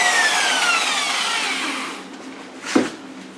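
A car polisher buffer whirs steadily at a slow, trigger-held speed and then fades down, with a brief clunk near the end.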